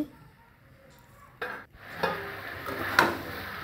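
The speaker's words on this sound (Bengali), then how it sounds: "দেওয়ার পর কিছুক্ষণ ভালো করে কষিয়ে নেব" Chicken curry being stir-fried in a pan with salt, a spatula scraping and knocking in a few distinct strokes over a soft continuous sizzle, close by with no talking.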